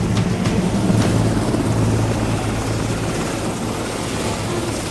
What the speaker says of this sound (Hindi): सर हेलीकॉप्टर आ गया।